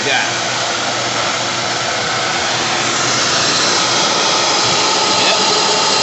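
A 5-gallon shop vacuum runs loud and steady, sucking water drained from an air compressor tank, a continuous broadband roar close by with no pauses.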